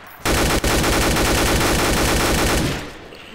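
Rapid automatic gunfire from a weapon in a zombie video game, a dense loud burst of rapid repeated shots lasting about two and a half seconds with a brief gap early on, then fading out.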